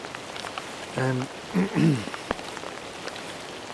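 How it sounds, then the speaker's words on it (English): Heavy rain pours onto a Swiss Alpenflage TAZ-83 poncho set up as a shelter, a close, crackling patter of drops throughout, with someone speaking briefly over it. "it's been pouring rain all day. Absolutely pouring"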